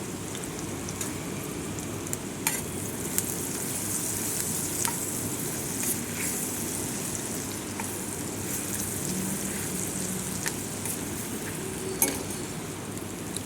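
Turmeric and ginger-garlic paste fry in a pan for an aloo fry, giving a steady, even sizzle throughout with a few faint stirring clicks now and then.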